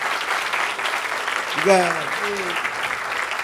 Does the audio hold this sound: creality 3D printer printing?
no